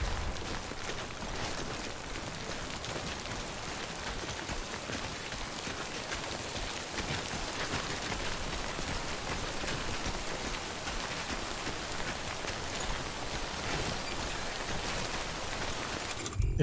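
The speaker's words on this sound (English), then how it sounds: "It's raining." Video game rain: steady, dense rainfall hisses evenly throughout, a constant wash of drops with no pauses and no voices.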